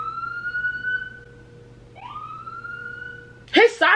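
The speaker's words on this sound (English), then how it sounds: "His siren is broken." A passing police car siren that sounds broken: a wavering, rising and falling wail that sputters and restarts mid-tone, fairly close, before a person starts talking over it at the end.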